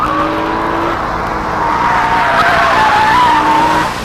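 A 2003 Acura CL with a VTEC engine is driven hard around a race track, its tires squealing in a long sustained skid over engine noise for about four seconds.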